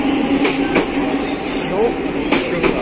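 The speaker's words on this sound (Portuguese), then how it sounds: "Galera, galera, olha lá, o trem já tá vindo." A SuperVia series 3000 commuter train (TUE 3060/3067) rolls into a station bound for Central do Brasil, giving a loud steady rumble with rhythmic wheel clacks and faint squeals while people chatter nearby.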